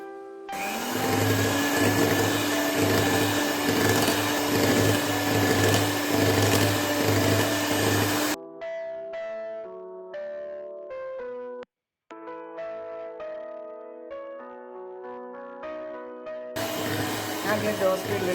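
Electric mixer beating cupcake batter of butter and powdered sugar, a loud steady whirring hum for about eight seconds, then quieter stretches where someone speaks, with the motor returning near the end.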